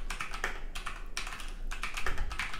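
Keystrokes on a Keychron K2 Bluetooth mechanical keyboard with brown switches come in short bursts of soft, slightly hollow clacks, close and moderately quiet, with brief pauses between runs of typing.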